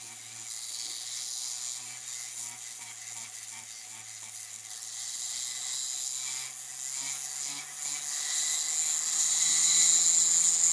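A rotary tool bit carves fire agate stone at roughly 3,000 to 5,000 RPM under light pressure, giving a steady high-pitched whine that runs continuously throughout, with the pitch shifting slightly as the bit keeps moving.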